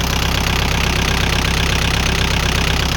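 Steady, rhythmic chugging of an L4708 DT four-cylinder diesel tractor engine idling close up, a constant low knocking pulse with no change in speed.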